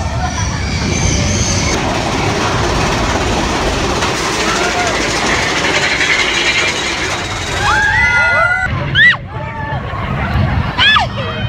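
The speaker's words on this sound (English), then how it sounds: "we're going on the Thunder Railroad ride now" Disneyland's Thunder Railroad ride train roars and rattles along continuously, with screeching wheel squeals rising near the end amid crowd voices and talk.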